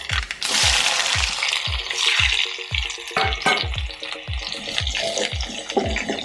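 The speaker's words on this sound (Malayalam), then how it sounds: "എണ്ണ ചൂടായി കഴിയുമ്പോൾ കടുക് പൊട്ടിക്കഴിയുമ്പോൾ ചുമന്നുള്ളി അരിഞ്ഞ് വെച്ചത് കേട്ടോ" Mustard seeds crackling in hot oil, then chopped shallots tipped in and frying, with a run of sharp rhythmic pops over a steady loud sizzle and no talking.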